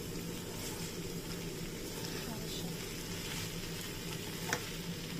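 Bitter gourd (ampalaya) frying with egg in a pan gives a steady, soft sizzle, fairly quiet and even throughout, with a brief scrape of stirring near the end.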